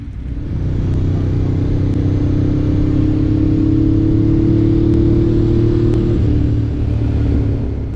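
A Ducati Monster S4RS motorcycle engine drones steadily while riding, a loud, close, continuous low rumble with a strong hum, holding an even pitch with a slight change near the end.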